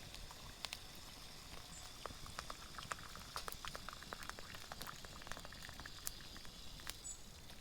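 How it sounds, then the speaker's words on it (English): Water boils in a wok over a campfire in the rain, bubbling and popping steadily at a quiet level, with scattered sharp ticks over a soft, constant hiss. "That's certainly boiling."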